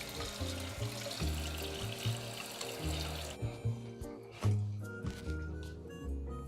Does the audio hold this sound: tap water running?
yes